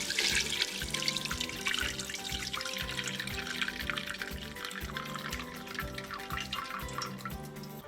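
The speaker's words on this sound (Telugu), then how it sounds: "సో ఇప్పుడు ఈ వాటర్ని అయితే బయటికి తీసేసుకొని ఇలాగా" Cooking water poured off pressure-cooked chicken during haleem preparation, a steady splashing stream that runs continuously and fairly loud, with a low rhythmic kitchen hum underneath.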